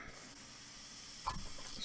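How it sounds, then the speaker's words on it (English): Water sprayed from a paint brush into a container of wastewater makes a steady, faint hiss that runs almost unbroken, with a small splash or knock near the end. "Spray it into my wastewater."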